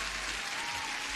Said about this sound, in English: And Crypto Panda deserves our usual applause.